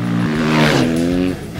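A motorcycle engine revs hard and close, the note rising and holding steady for over a second before cutting off abruptly, loud and alone with no talk.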